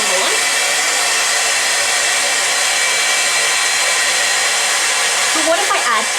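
Hair dryer blowing a ping pong ball aloft: a loud, constant close-up whoosh with a broad airy hiss throughout and a slight shift near the end.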